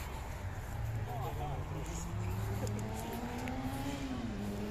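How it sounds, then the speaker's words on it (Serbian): A small car engine revs at a car meet in Velika Gorica, its rising and falling pitch sweeping through steady mid-level engine noise without speech. "Motorčić."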